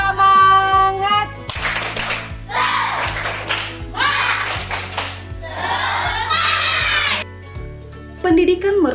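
Rhythmic 'tepuk semangat' enthusiasm clapping in a teacher's classroom setting: several bursts of patterned hand claps repeat over steady background music, fairly loud and close.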